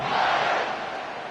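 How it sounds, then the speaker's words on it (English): An American football crowd at a Texas game roars and buzzes after a score, a broad, continuous wash of cheering that slowly eases off. "this crowd is buzzing after that last score"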